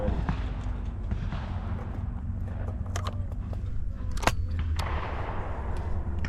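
A shotgun is fired at a clay target shoot, giving one sharp, short report about two-thirds of the way through. Softer clicks and light outdoor noise surround it.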